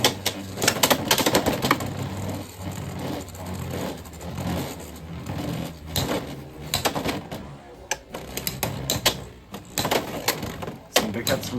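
Beyblade X spinning tops clashing in a plastic stadium, a rapid series of sharp clicking impacts in irregular bursts, close and fairly loud, under intermittent talking.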